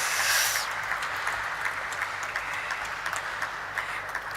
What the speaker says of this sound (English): Can we keep having that applause going?